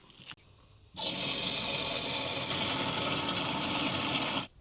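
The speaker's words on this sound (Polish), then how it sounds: "Wlewam więc wodę do tego zbiornika" Water gushes steadily into a garden sprayer tank, a loud continuous pouring rush that starts abruptly after a brief softer trickle and stops cleanly at the end, with no talking.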